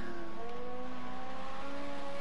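A Ginetta GT4 race car engine drones steadily in a racing game, its pitch climbing and shifting through gears in a short, continuous burst with no talking.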